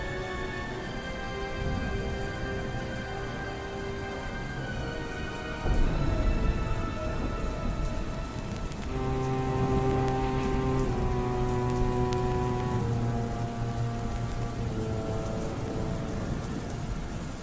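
Steady rain pours on a surface throughout a dark, unlit alley, with low rumbles of distant thunder rolling underneath and a heavier burst partway through; no voices.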